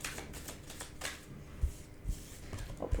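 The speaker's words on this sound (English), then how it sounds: "I'll put all those back and we'll do another shuffle." Tarot cards being shuffled by hand: soft, close riffling and papery slaps in short bursts with small thuds, quiet and without speech.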